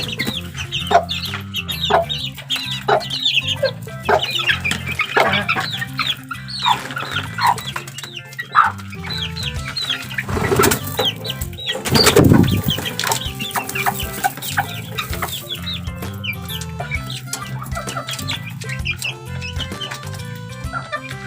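Young chicks being fed peep and cheep in rapid, scattered bursts, close and lively, with occasional clucks and brief handling noise mixed in throughout.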